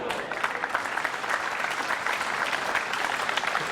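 Crowd at the 2006 World Pool Championship last-16 match breaks into steady, sustained applause after a bank shot, a dense wash of clapping that holds evenly from start to finish.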